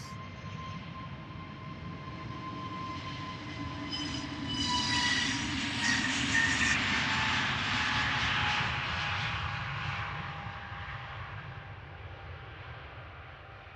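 An Airbus A321neo airliner taking off roars steadily in the distance, swelling louder midway as it passes, with a faint whine under the broad rumbling noise.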